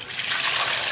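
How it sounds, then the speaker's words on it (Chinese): Water being poured into a cooking pot of braising lamb trotters, a short, steady splashing gush, close and moderately loud with no voices. "加水"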